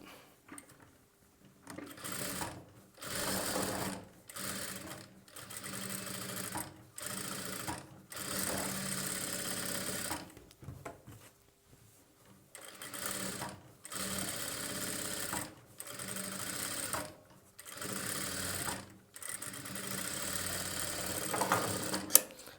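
A sewing machine stitches along the lining of a boat-neck blouse beside the piping, running in repeated short bursts separated by brief pauses, close and steady with no talking.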